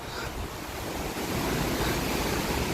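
Strong warm wind on an island by the ocean roaring in a dense, broadband rush that swells louder toward the end, buffeting the microphone.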